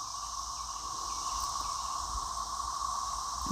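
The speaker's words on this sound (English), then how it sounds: "If you can hear a roar in the distance background, it's all the cicadas coming out." A steady roar of cicadas drones from the distance outdoors, an unbroken, even shimmer with a couple of layered pitches, faint and continuous with no other sound over it.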